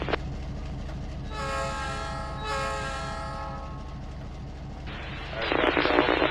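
Diesel locomotive in the Trainz 19 train simulator game, a steady low engine rumble with a long two-part horn blast sounding close and loud, followed by a hissing burst near the end.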